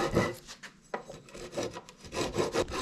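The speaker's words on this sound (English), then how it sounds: "So we'll finish filing this and start making the other three." A hand file rasps back and forth across a wooden workbench leg part in a series of short, close, rhythmic scraping strokes with brief pauses between.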